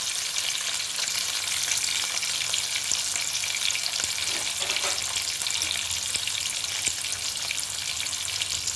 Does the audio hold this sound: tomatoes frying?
yes